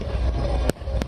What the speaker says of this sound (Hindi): आतिशबाजी के रूप में फूटता दिखाई दे रहा है।